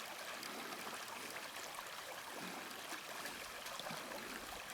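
Cold, deep river water in Lapland, Finland, rushing and gurgling steadily around a hiker wading across on a summer trek, a continuous close stream sound with no talking.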